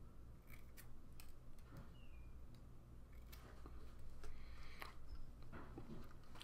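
Scissors trim material around a nickel vape coil for a Kanger SubTank Mini, giving faint, close snips that come in a few scattered cuts over a low background hum.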